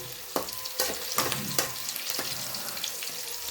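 Onions frying in a pan for chicken dum biryani give a steady broadband sizzle, with a few sharper clatters of stirring spread through the clip, and no voices.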